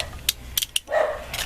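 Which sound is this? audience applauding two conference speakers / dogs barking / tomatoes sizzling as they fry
dogs barking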